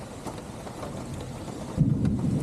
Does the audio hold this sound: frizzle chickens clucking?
no